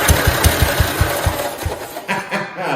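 A 1969 Spruce Blue 112 Patio garden tractor's small engine runs just after starting, pounding out a rapid, loud, slightly uneven beat up close before faltering and changing pitch.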